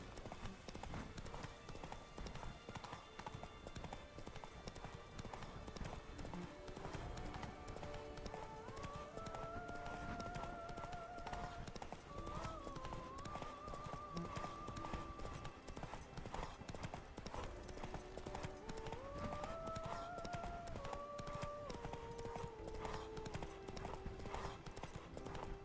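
Steady clip-clop hoofbeats from the horse Roach in The Witcher 3 run throughout at a quiet level, with game music tones layered over the rhythmic trotting.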